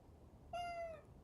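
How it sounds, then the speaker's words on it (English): A pet cat named Siema gives a single clear meow, close and moderately loud, lasting about half a second with a slight downward glide, over faint room hiss with no one speaking. "I love this meow, and I hope you can hear that meow"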